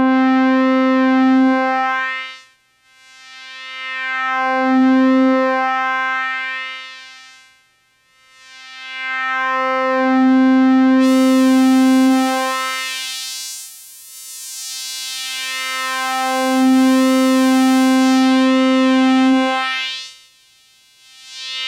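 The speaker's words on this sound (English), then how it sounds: "Sounds like a CS-80 to me." Yamaha CS-80 synthesizer playing sustained, harmonically rich notes in four swelling phrases, each with sweeping high-pass and low-pass filter motion that opens and closes the tone, with a bright hiss layered in over the second half.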